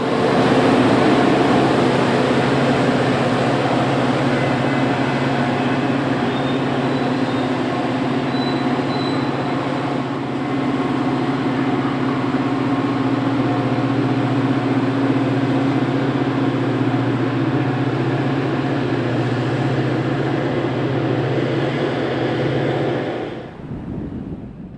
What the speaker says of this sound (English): Another inbound arrives at Grange Road with the 210 shoving the train east